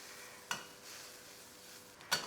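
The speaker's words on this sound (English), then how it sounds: "keep moving and keep frying until you get a little bit of browning" Beef stir fry browning in a hot pan gives a steady, close sizzling hiss, broken by two sharp clinks of a utensil against the pan.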